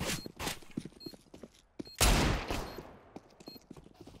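Gunfire in Counter-Strike: Global Offensive, with several close shots and a loud burst hitting walls, scattered among quieter movement sounds, with no talking.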